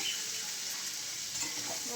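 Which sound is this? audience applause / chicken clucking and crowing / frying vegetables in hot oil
frying vegetables in hot oil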